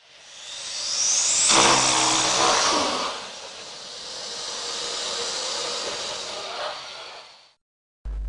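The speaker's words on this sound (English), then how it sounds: "Crocodile." A crocodile gives a long breathy hiss, loud and near, with a rougher snorting surge early on before it trails off into a sustained exhaled rush and stops.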